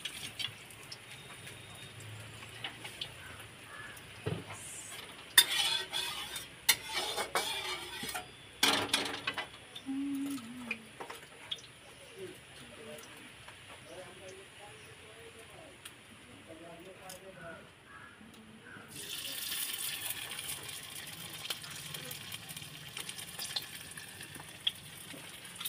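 Noni greens pakoras deep-frying in hot oil, with soft crackling sizzle that swells louder near the end, mixed with stirring clatter and occasional talk.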